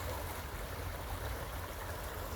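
An urban river flowing, a steady broadband rush of moving water, constant and fairly soft, with no voices.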